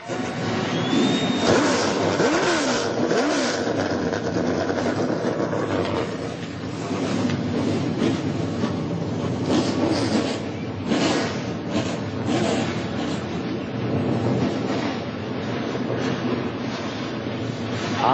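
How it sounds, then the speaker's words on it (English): NASCAR stock cars of the Whelen All American Series, 400-plus horsepower, firing up at Daytona, a steady dense roar of many engines held loud and continuous with rising revs, no talk. "The sound of 400 plus horsepower firing up here at Daytona."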